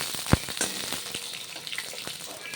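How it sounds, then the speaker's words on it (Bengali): Eggplant pieces fry in hot mustard oil in a wok for a small-fish curry, giving a steady, close crackling sizzle with a sharp pop early on and occasional stirring clinks. "এবার বেগুনগুলো ভালো করে ভেজে নেব।"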